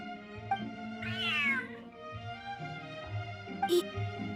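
A large cat meowing in a video game, one drawn-out, loud meow rising and falling, then a shorter call, over soft background music.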